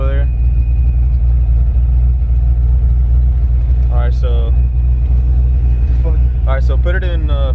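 A supercharged Fox Body Mustang sits running with a loud, steady low engine rumble throughout, while people talk over it in the cabin.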